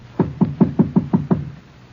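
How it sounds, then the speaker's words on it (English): Seven sharp knocks on a door in a 1950 radio drama, evenly spaced in a quick run, close and dry with nothing else behind them. "Knock."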